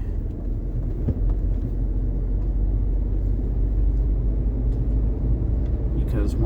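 Jeep Wrangler driving down a gravel road on Illinois back roads, a steady low rumble of engine and tire noise throughout with no gaps.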